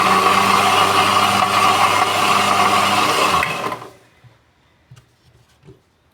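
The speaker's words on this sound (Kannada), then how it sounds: "ಈಗ ಒಂದೇ ಒಂದು ರೌಂಡ್ ಮಿಕ್ಸಿ ಓಡಿಸ್ಬೇಕು." A mixie blender grinds mango sikarane with jaggery, a loud, steady whirring motor roar for about three and a half seconds that then winds down and stops, leaving a few faint clinks.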